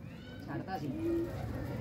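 Pigeons being trained coo softly in a brief low call, faint in the background.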